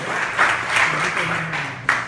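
A church congregation claps in praise during a Portuguese-language worship service, a dense steady patter with a few louder swells, running alongside speech throughout.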